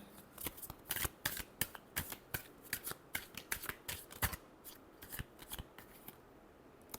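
Tarot cards being shuffled by hand, a close, quiet run of rapid papery flicks and riffles in uneven bursts, no voices.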